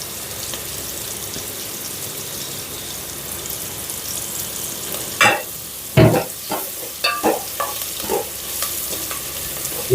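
Green chillies, curry leaves, dried red chillies and garlic stir-fry in oil in a deep pot for Andhra-style ulavacharu, a steady sizzle broken in the second half by several sharp scraping and clanking stirs of a spatula.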